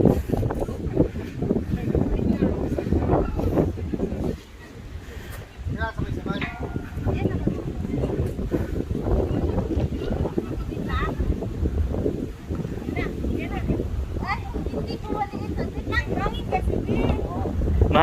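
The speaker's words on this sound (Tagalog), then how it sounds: "Mahangin kasi, mahangin." Strong wind buffets the microphone at a seaside marina in Kuwait, a steady broadband roar with gusty surges that continues throughout, with people talking over it.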